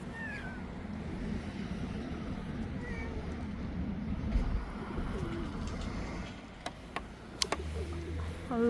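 Soft, low pigeon coos drift in outdoors over a hushed ambient background, with a few brief clicks and knocks near the end.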